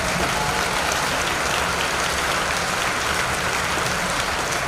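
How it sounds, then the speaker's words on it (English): A commencement crowd at a 2022 school graduation applauds the parents in a steady, loud, unbroken wash of clapping that holds at even strength from start to finish. "Let's give them an applause"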